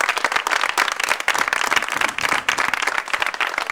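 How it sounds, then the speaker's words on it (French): Audience clapping on cue at a comedy show, loud and close with individual hand claps standing out from a dense, uneven wash of applause. "je vous demande d'applaudir très fort"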